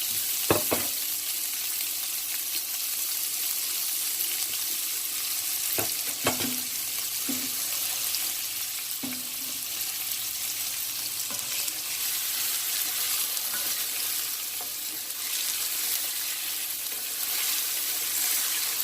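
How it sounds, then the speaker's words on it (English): Finely chopped vegetables fry in a hot pan of sausage fat and olive oil for tropical rice, giving a steady, close sizzle. A few utensil clicks and stirring scrapes break through the sizzle now and then. "So I'm going to go ahead and put in these vegetables."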